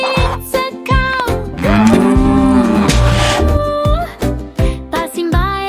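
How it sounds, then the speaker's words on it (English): A cow in a cartoon children's animal-name lesson, heard as a loud, drawn-out moo over a bright backing music track, the call swelling in the middle and surrounded by plucked melodic notes. "Walking slowly it's a cow."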